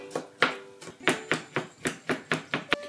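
A kitchen knife chops garlic on a cutting board in quick, crisp taps, about a dozen close, sharp strikes in an uneven rhythm with no talking.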